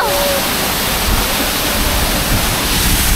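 Waterfall in Bohol: a steady, loud broadband roar of falling water that fills the whole stretch, close by and constant, with no clear voices over it.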